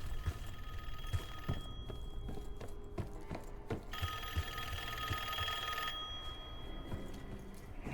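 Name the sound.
telephone ringing in Call of Duty Black Ops 6 video game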